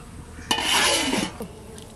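A lid goes onto a clay handi of village-style duck curry, making a close, brief scraping clatter lasting about a second against a low steady background.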